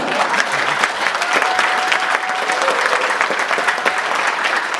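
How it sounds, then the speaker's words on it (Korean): An audience in a university lecture hall applauds a provincial governor's special lecture at a social services forum, a loud, sustained clatter of many hands clapping steadily for several seconds. "박수 쳐주면 10초 있어요."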